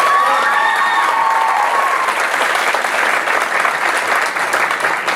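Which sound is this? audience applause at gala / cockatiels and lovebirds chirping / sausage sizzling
audience applause at gala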